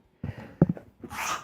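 A single close, loud human sneeze, a short breathy intake followed by a sharp burst and a hissing exhale, heard alone.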